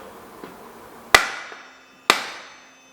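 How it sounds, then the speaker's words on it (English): Two sharp metallic hammer strikes on an Orange Five mountain bike swingarm to knock a bearing free, each with a ringing decay, close and loud, preceded by a faint tap. "Then we need to hit the swing arm from the other side."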